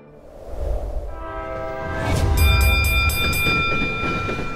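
A train on a railway circling the Taklamakan desert in China approaches and passes, its rumble swelling from quiet to loud, with a sustained horn-like tone and ringing metallic clatter joining the roar.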